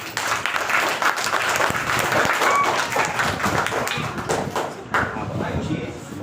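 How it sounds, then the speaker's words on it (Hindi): An audience at a workshop applauds a young girl named Ayushi, producing loud, sustained clapping from a roomful of people that holds steady for several seconds before easing slightly at the end. "आयुषी की तालियां बड़ा जोरदार।"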